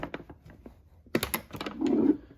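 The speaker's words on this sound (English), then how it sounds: "It's an old typewriter, Smith Corona Clipper." Old Canadian-made Smith Corona Clipper typewriter handled up close, with a run of light clicks and taps followed by a louder clunk and rattle of its mechanism, heard alone.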